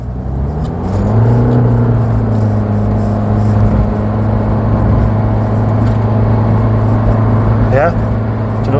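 Car with a CVT automatic gearbox accelerating along a twisty road, its engine holding a steady droning tone that climbs briefly and then stays level, heard close from inside the cabin.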